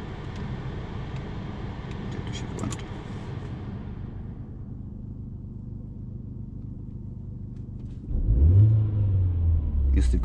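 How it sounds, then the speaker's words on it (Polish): Car engine idling after a fuel-tank-area humming fault was addressed: a low steady rumble that fades quieter mid-clip, then swells louder with a deeper throb near the end, no talk heard. "Jest tylko dźwięk silnika."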